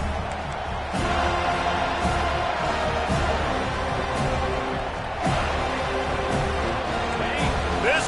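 A packed football stadium crowd roars steadily at Miami versus Florida State, a dense, loud wall of cheering with swells, while an announcer talks over it.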